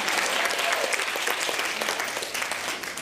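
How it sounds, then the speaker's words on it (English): An audience at a presentation applauds steadily, a dense, continuous patter of many hands clapping that stays even for a few seconds. "You can applaud."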